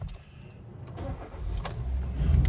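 A 2016 Kia Rio SR7 1.2 five-door hatchback cranks and starts, its engine rumbling low and steady close by, rising slightly louder toward the end with a few brief clicks over the idle.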